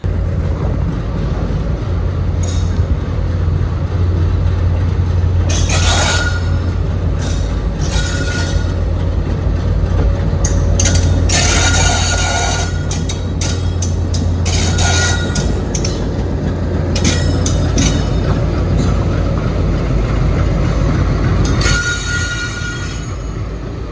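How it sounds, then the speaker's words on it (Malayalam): Palaruvi Express rolling slowly into Tirunelveli Junction, heard on board: a loud, continuous low rumble of wheels with repeated high metallic squeals and screeches from the rails, some sharp and brief, others drawn out. "നമ്മളങ്ങനെ തിരുനെൽവേലി ജംഗ്ഷനിലേക്ക് കയറിക്കൊണ്ടിരിക്കുക"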